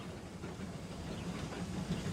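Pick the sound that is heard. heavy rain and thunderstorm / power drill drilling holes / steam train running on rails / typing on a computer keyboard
steam train running on rails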